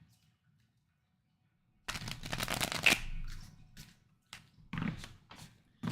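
Playing cards shuffled on a soft surface to protect their edges: after a silent start, a run of dense riffling bursts, then a few shorter separate shuffles, fairly close.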